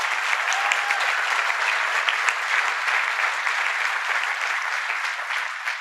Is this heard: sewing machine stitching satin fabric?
no